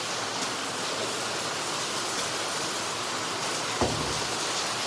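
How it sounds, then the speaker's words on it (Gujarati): Heavy rainwater pours down from above in a village setting, a dense, steady hiss with one brief thump near the end and no talking. "જો અહીંયા કેટલું પાણી પડે છે જો"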